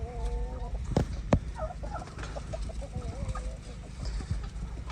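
Barred Rock chickens cluck and murmur close by in a steady, busy chorus, with a few sharper calls mixed in and no one speaking.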